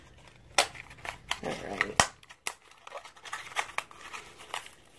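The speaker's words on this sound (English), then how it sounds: "I'm going to have to use my scissors to open." Scissors snip open a cardboard blind box shipping package, making a series of sharp, close cuts mixed with crinkling and rustling of packaging, with a brief spoken remark.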